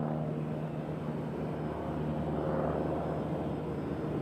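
Sunwing airliner from Canada at Nashville airport, a moderate steady engine drone with low tonal hums and broadband rush, continuous and without talk.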